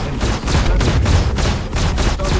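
Rapid bursts of weapons fire from a spaceship dogfight in the Star Citizen space-combat game, several loud volleys in quick succession with dense, crackling impacts and no talk.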